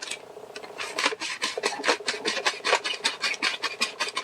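Rapid rhythmic raspy scraping and clicking as 116/70mm film is ratcheted onto a plastic Paterson developing reel, close up and fairly quiet, with no voices.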